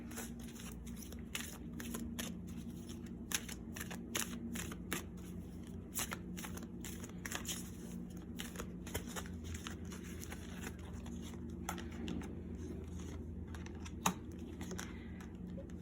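Angel oracle cards being shuffled for a pick-a-card reading, a steady close riffling and flicking patter of card stock that runs for the whole stretch with one sharper snap near the end.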